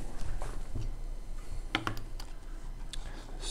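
Keys clatter on a computer keyboard in short bursts, with a couple of sharper clustered clicks near the middle, close and fairly quiet against a steady room hum during a calculus lecture.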